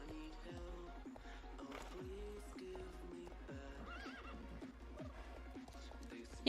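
A horse in the Star Stable video game whinnies while its hooves clip-clop in a steady rhythm, all fairly faint and with no talking.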